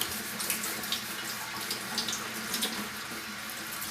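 Water runs steadily from a sink faucet, a continuous hissing splash with no voices.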